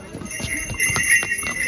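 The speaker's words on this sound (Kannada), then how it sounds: "ಕುದುರೆ ಆಪತ್ತಿ ಓಡಿಸತ್ತಾರ ನೋಡ್ರಿ." Horse hooves clip-clop in a quick, even rhythm on a cold mountain trekking trail to Kedarnath, close and fairly loud over a brief stretch.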